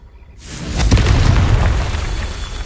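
A Confringo blasting curse detonating in Hogwarts Legacy, a single loud booming explosion that bursts suddenly and rumbles away over a couple of seconds.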